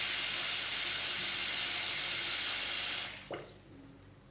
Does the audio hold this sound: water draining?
yes